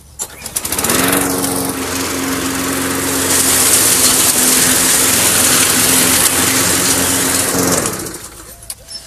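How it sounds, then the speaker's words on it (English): Lawn mower chopping up fallen leaves on a garden lawn, starting up and then droning loudly and steadily at close range, the pitch rising slightly midway before the engine cuts off near the end. "if the leaves are already on the lawn, of course, you can gather them up with the mower directly"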